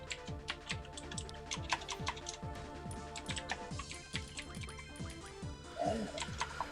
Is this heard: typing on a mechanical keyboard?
yes